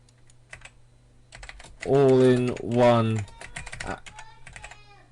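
Rapid clicks from typing on a computer keyboard patter before and after a burst of speech, with the keys loud and close and no words spoken during the typing itself.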